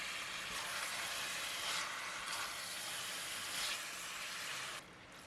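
Marinated pork shoulder hisses and sizzles steadily in a hot pan of onions, a continuous close, bright frying hiss that fades slightly near the end.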